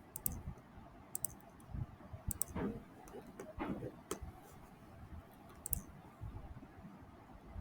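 Quiet, sparse mouse clicks on a computer, single sharp ticks scattered over several seconds against a low background hum, no talking.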